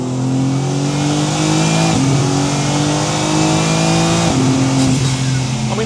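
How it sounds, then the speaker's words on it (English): A BMW M3 CS Touring with a lightweight custom exhaust and titanium silencer revs hard, a loud, steady engine drone climbing through the gears with two brief drops at shifts. "what we've got is a lightweight custom exhaust with a titanium silencer"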